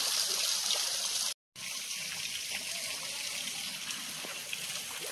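Steady flowing water runs in a botanical park at Nandankanan, Bhubaneswar, a continuous bright rush broken by a brief drop-out, loud and close with no voices.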